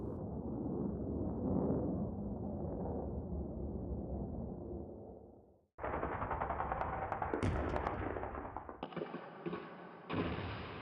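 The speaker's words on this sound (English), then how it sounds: "Just ignore the constant sounds of gunfire, explosions, and combat." Continuous rapid gunfire with heavy thuds and booms from a video game, shifting between bursts of automatic fire and sharper blasts, loud and close with no talking.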